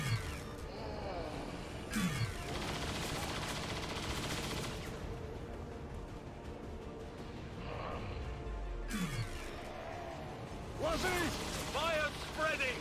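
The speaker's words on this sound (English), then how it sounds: "There's heavy fire in this zone." Heavy gunfire during an alien attack on the Avenger ship in XCOM 2, with dense continuous bursts, crashes and mechanical clatter filling the whole stretch under game voices and effects.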